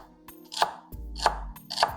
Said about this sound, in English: So then I can start just chopping up all of my vegetables.